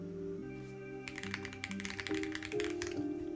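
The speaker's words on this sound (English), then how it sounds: "I actually don't mind typing on this board." Typing on a Glitter65 custom mechanical keyboard, a dense run of quick clacking keystrokes heard close up over steady background music, with a softer stretch of taps near the start.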